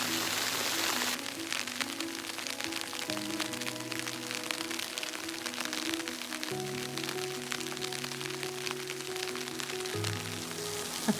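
Steady rain and sleet patter on a tent at a winter campsite in the White Mountain National Forest, New Hampshire, a constant dense hiss with a low hum underneath.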